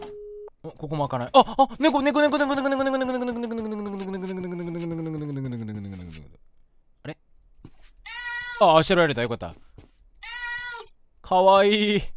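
A cat in a video game meows in a long, drawn-out, wavering cry, then gives several shorter meows in quick succession, loud and close.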